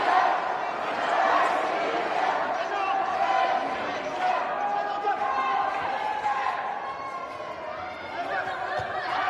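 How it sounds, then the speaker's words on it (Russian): Spectators at a 2019 women's world boxing championship semifinal cheer for Lyudmila Vorontsova of Russia, Buryatia, against Yu Ting Lin, a rolling crowd roar under a commentator's steady talk. "Подключаются трибуны."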